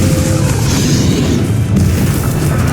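Bombarda explosion spell going off in the video game Hogwarts Legacy: a loud, sustained booming blast with a deep, rolling low-end rumble that stays heavy throughout.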